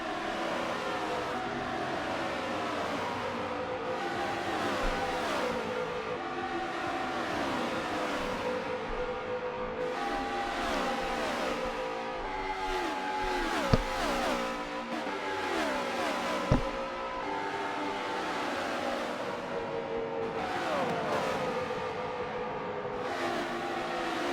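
Several race cars battle closely on the Indianapolis oval in a racing video game, a continuous layered engine drone with overlapping pitches sliding up and down as cars shift and pass, steady and loud, with a couple of brief sharp knocks.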